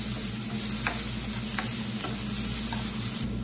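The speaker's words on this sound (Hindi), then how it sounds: "अब इसमें हम प्याज डाल के फ्राई कर लेंगे।" Medium-sized chopped onions frying over a medium flame in a pan, a steady loud sizzle with a few scraping stirs spaced through it.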